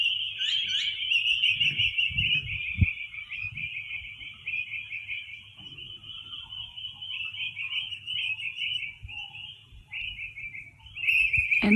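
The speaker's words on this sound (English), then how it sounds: "And also listen to the birds." Birds sing outdoors in a peaceful natural setting, a continuous bright chirping and trilling chorus running steadily throughout, with a few low thumps and rustles near the start.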